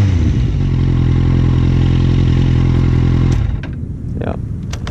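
A motorcycle engine idles and is blipped with the throttle, running as a loud throbbing drone before cutting back, followed by brief clatter and a voice.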